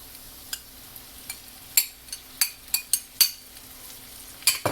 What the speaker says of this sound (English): Now we're going to put our chili powder and our tomato sauce.